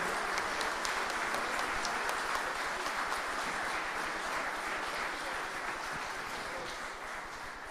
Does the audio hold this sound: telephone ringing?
no